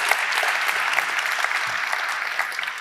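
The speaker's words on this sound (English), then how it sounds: "giving a big round of applause to everyone involved" A conference audience at CSS Day 2024 breaks into applause, a fairly soft but continuous patter of many hands clapping together throughout.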